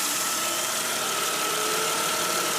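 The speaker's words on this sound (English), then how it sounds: "my engine's just a little bit idle and rough" A 2004 Jeep Grand Cherokee WJ with the 4.0 engine idles roughly, giving a steady, close mechanical drone with a faint whine running through it. No one speaks.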